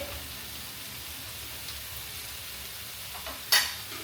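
Fish frying in a pan on high flame, a steady close hiss and sizzle throughout, ending in a sharp clatter of a utensil or lid near the end, no voices.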